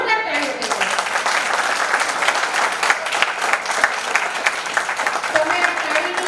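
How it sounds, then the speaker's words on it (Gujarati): Loud, sustained applause from a crowd at a boarding school event, dense clapping that keeps up for several seconds and covers the whole stretch. "આ બાળકો માટે આ સુંદર સચ્ચાઈ માટે ને આ હકીકત માટે જોરદાર તાળીઓ આપો."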